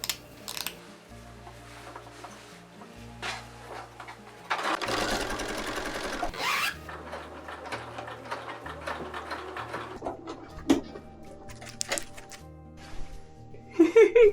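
A sewing machine runs a long stitch to set a zipper into a dress, sounding as bursts of rapid rhythmic clatter separated by pauses, with fabric handling noises and a louder stretch of mechanical whir in the middle.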